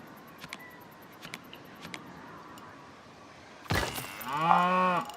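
At a Cosmic Cow shop in Planet Coaster 2, faint clicks and ticks give way to a loud, drawn-out cartoonish cow moo near the end, rich and tonal, swelling for over a second.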